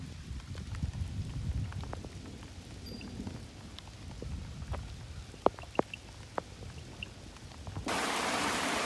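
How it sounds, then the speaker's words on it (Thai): Heavy rain pours down steadily, a dense hiss with scattered sharp drops, growing louder and more intense near the end. "ฝนก็ตกหนัก"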